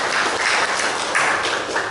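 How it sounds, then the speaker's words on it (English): A church congregation at a United Methodist service applauds, giving a steady, moderately loud wash of clapping that swells slightly near the middle and continues without pause. "I think they deserve our hand of applause."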